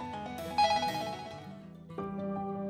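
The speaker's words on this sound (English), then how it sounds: "The phones won't stop ringing." Office telephones ring insistently in a workplace flooded with complaint calls, an electronic ringing tone with a shift in pitch partway through, fairly quiet and heard alone without talk.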